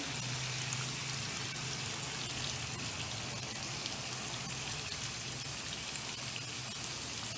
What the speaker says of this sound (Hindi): ये पानी हमने इसमें डालना है